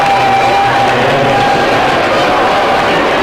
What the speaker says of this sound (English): That sort of wakes up the NAC crowd, who's been kind of stoic here